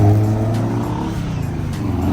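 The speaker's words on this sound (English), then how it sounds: "Here comes the cool Mark II Escort that we saw." A Ford Escort Mark II pulls away from a car meet, its engine a loud, close, throaty rumble with a rising rev as it drives off, over crowd noise outdoors.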